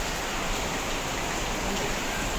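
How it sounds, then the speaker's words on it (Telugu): Rain falls steadily outside, a dense, even wash of drops landing on surfaces at moderate volume, with no clear break. "వాన గురుస్తూనే ఉంది చూడండి."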